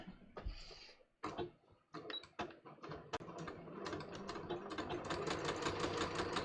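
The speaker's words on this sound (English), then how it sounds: "I'm going to sew right through it." A sewing machine stitches through a welt pocket, starting with a few short bursts and clicks, then settling into a steady rapid needle rattle that grows louder, close up.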